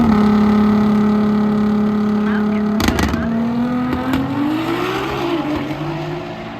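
A Lamborghini at a car show at Atlanta Motor Speedway gives a steady, loud engine drone that holds at idle, then rises and wavers as it revs, with brief clatter midway and crowd noise around it.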